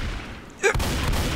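A short burst of gunfire from the video game Left 4 Dead 2 sounds close and loud against a dense game background, a sharp crack followed by a quieter second report.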